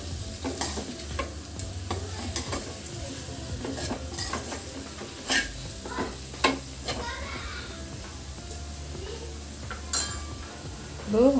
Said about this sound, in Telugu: బాగా మగ్గనివ్వాలి ఆయిల్లోనే.